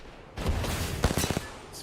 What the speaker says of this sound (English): It's like we've had permanent gunfire in this building for the last, 5 minutes.